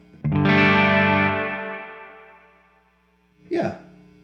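A guitar chord rings out through a Victory The Jack 180W hybrid amp, its modulated reverb tail slowly fading, followed by a second brief strum near the end.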